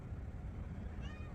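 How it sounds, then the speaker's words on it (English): A cat meows faintly once over a low rumbling background hum, the cry brief and quiet. "You might hear my cat meowing."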